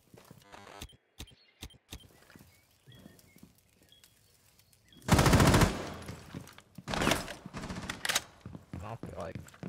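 Rapid automatic gunfire bursts out in a Rainbow Six Siege match, loud dense volleys in the second half following scattered clicks and faint game sounds, with players talking over the action.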